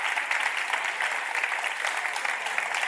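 Steady audience applause fills a theatre after a children's stage show's turtle character takes a bow, dense clapping holding at an even level throughout.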